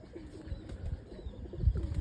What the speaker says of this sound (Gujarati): અત્યારે કબૂતર તો આવ્યું છે, ચાંચ પ્રસાદ કરે છે